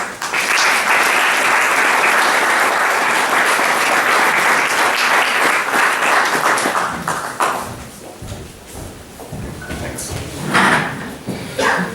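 Loud, dense audience applause at a communication conclave inauguration welcoming a guest, sustained for about seven seconds before thinning into scattered claps.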